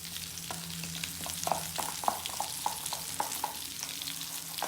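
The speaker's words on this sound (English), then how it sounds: "And just give this a stir." Dried parsley flakes are stirred in a sizzling pan, giving a soft continuous fry with several light scraping strokes at a moderate pace, close and fairly quiet.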